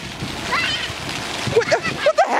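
Water splashes and sloshes as a person is urged into the water, a few short splashy bursts near the mic with excited voices talking over them.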